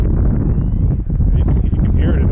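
Strong wind buffeting a flying Eachine Red Devil FPV drone, a heavy, constant low roar that fills the whole stretch, with a voice talking faintly underneath.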